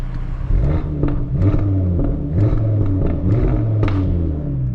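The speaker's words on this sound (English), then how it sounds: "An R8 sounds just like that." An Audi R8 in dynamic mode revs from inside the cabin with the window slightly down: a deep, rumbling engine note that swells and falls in several throttle blips, loud and close, with no talking.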